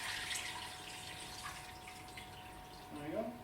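Filtered water running into a pot being filled to the maximum line for beef bone broth, a steady hissing tap flow, close and moderately quiet, with a brief voice near the end.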